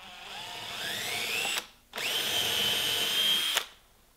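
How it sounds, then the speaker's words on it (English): A power drill bores a hole in wood while building saw horses, close and loud. Two steady whirring runs are split by a short pause, with the motor pitch climbing as it spins up. "just drill a hole right there."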